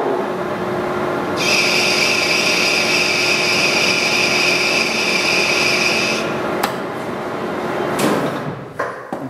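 A metal lathe cuts a metric thread pass using an inch lead screw with the half nut engaged, giving a steady whine for several seconds that then stops, followed by a few sharp clunks near the end.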